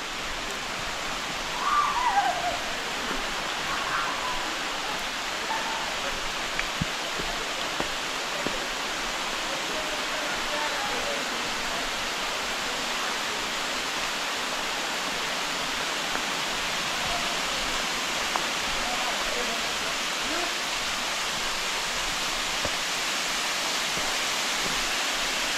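Bica Grande waterfall on the Paraíba river roaring steadily in the rain, a dense broad rush of falling water that fills the whole stretch, with a faint voice briefly near the start.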